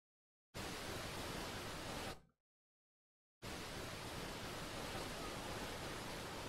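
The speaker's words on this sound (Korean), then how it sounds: "여기 막 이게 지금 물이 흘러내리는 거고 그 뒤쪽에 이제 영상에 폭포가 막 있는데" Banias waterfall in northern Galilee, heard as a recording played back, giving a steady broadband rushing roar that drops out for about a second midway before resuming, with no voices.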